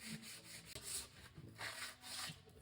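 Dark old varnish is scraped from the wooden slats of a 1990 MasterCraft 190 swim platform in quiet, rhythmic rubbing strokes, close by and faint.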